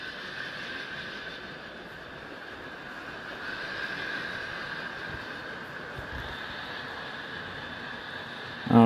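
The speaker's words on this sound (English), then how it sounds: "I love watching trains go through crossovers" A model hopper train rolls through number 8 crossovers on a layout, a faint, steady low rumble with soft wheel noise that holds throughout and ends with a brief sharp click.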